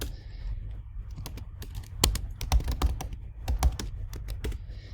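Typing on a computer keyboard, with quick irregular key clicks and taps close by in a quiet room.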